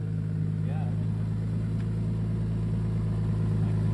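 A BMW E30 M3 with an S54 engine, single-mass flywheel and alpha-N tune idles with a steady, deep, close drone, while voices speak softly under it.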